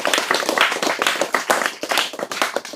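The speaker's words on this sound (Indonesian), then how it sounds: "Tepuk tangan." Audience clapping at a religious lecture on spiritual methodology, a dense burst of many hands applauding steadily throughout, fairly loud and close with no talk over it.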